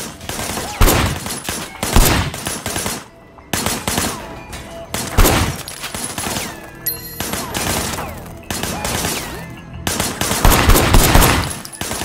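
Heavy bursts of automatic gunfire in Sleeping Dogs: Definitive Edition, loud volleys repeating every second or two with brief gaps between.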